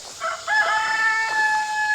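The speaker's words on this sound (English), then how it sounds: "So the chickens that are free ranging out here can scratch all this up." A rooster crows nearby among free-ranging chickens, a drawn-out call that rises and holds, with faint clucking around it.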